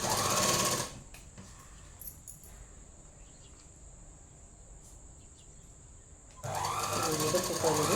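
A sewing machine stitches a chudidhar top, running as a steady high mechanical whirr for several seconds between stretches of someone talking.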